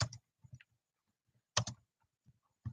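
Short bursts of computer keyboard typing in a quiet room, a few separated clusters of keystrokes with pauses between them, fairly faint.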